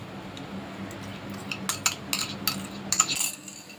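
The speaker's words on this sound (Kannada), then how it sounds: "ಇವಾಗ ಇದನ್ನು ಚೆನ್ನಾಗಿ ಕೈ ಬಿಡ್ದಂಗೆ ನಾವು ಮಿಕ್ಸ್ ಮಾಡೋಣ." A utensil stirs cream around a pan, with scattered clinks and scraping strokes that grow busier and louder toward the end, close and without any talk.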